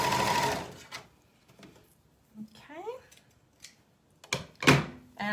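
An overlocker sewing machine finishes the edges of summer skirt fabric in short, loud whirring runs, separated by fabric handling, light clunks and a voice.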